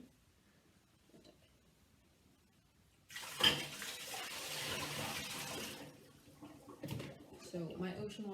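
Water from a polar bear float experiment, a heavy tub of 'ocean' water, is poured out in a sudden loud splashing rush lasting about three seconds, then tapers into scattered drips and small clatters.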